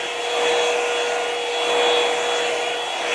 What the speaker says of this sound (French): pour les sécher, j'utilise cette brosse soufflante de chez Revlon